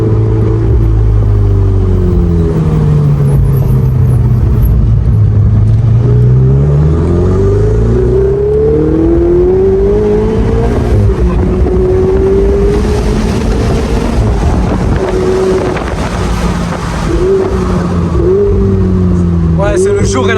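Ferrari 488 Spider engine revving in race mode, loud and close with rising and falling engine pitch sweeping through the passes, wind buffeting and someone talking over it.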